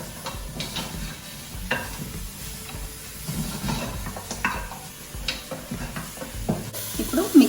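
Washed mutton paya pieces, goat legs, are stirred in a pot with a spoon, giving repeated scraping and clinking strokes over a soft sizzle, close and steady.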